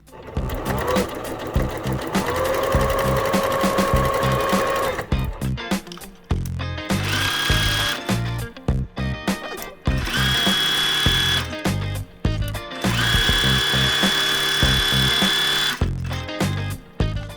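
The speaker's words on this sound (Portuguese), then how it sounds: "deixar a linha reta e nós vamos costurar" A sewing machine runs a straight stitch around a fabric bag holder in several long bursts, its motor whirring steadily between short pauses and clicks.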